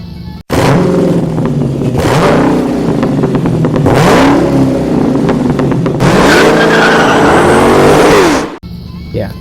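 A Wright Stander ZK stand-on mower runs steadily with a freshly replaced blade spindle, giving a loud, continuous engine drone whose pitch swells and dips several times before cutting out near the end.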